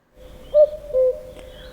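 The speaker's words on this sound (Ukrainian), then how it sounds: "ми почуємо не тільки куку, яке вимовляє самець" A cuckoo calls twice, two clear, hollow notes in quick succession at moderate distance against a quiet background.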